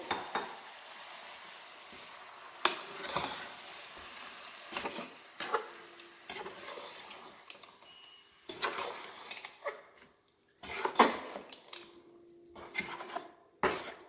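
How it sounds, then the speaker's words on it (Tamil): Raw ground onion-tomato paste frying in oil for brinjal puli kuzhambu, a steady moderate sizzle broken by repeated clattering stirs and scrapes of a spoon against the pan. "பச்சை போட்டதுனால எண்ணெயில் வறுத்துடலாங்க"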